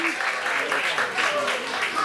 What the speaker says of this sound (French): On applaudit bien fort le Maroc